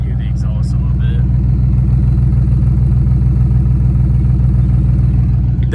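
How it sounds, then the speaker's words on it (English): A lightly modified 2013 Infiniti G37S coupe with a manual gearbox idles, its exhaust giving a steady, deep rumble that runs unbroken from start to finish, with a brief faint voice early on. "Hear the exhaust a little bit."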